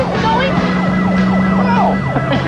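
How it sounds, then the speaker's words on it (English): A police car siren wails in repeated rising and falling sweeps close behind a moving car, loud and steady throughout, with a low engine drone underneath and brief voices mixed in. "they're right behind us with lights flashing and sirens going"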